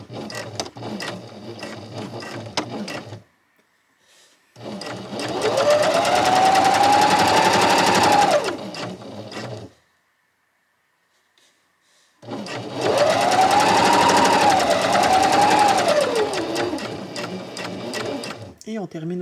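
A sewing machine stitching a flat-felled seam in navy fabric runs in two long loud bursts of rapid whirring, separated by a pause, with short softer stretches at the start and end.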